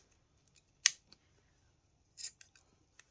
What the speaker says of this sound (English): what we're going to do is grab our pinking shears